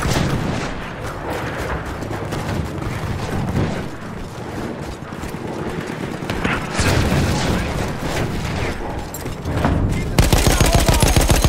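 Enemy machine gun fire in the Battlefield 1 video game: sustained bursts of automatic fire mixed with booming blasts and battlefield chaos, loud and continuous throughout, with no talk over it.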